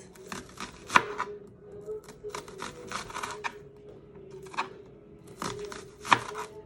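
A knife chopping an onion into slices on a cutting board: irregular, crisp close-up clicks and taps in uneven bursts, with a few sharper louder strikes, no talking.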